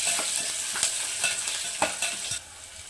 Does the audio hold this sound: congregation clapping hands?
no